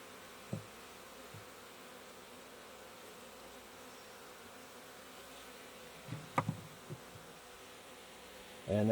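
Honey bees swarm around a Langstroth hive frame being converted for a Layens hive, a steady, soft, continuous buzzing with a few faint knocks and handling sounds, no talk.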